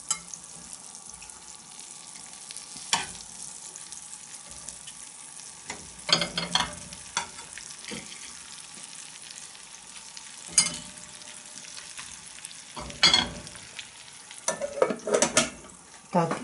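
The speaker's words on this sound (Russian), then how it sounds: "Теперь на чистую сковородочку ложу кусочек масла. Так, и выкладываю сюда отбивные." Turkey liver chops frying in butter in a clean pan, a steady soft sizzle running throughout with occasional louder clinks and scrapes from handling, and no talk.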